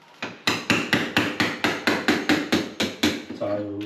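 A hammer strikes a chisel about a dozen times in a steady rhythm, each sharp metallic knock chipping at kitchen wall tiles, loud and close, with a brief voice near the end.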